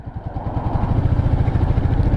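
A Royal Enfield Meteor 350 motorcycle with a J-Series engine pulls in second gear. It gives a steady, low thumping exhaust note that builds slightly in loudness over a couple of seconds, with no voices.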